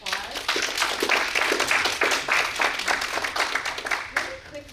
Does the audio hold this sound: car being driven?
no